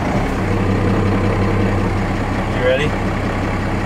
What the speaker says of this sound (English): we are gonna start the truck up here, take it on down the road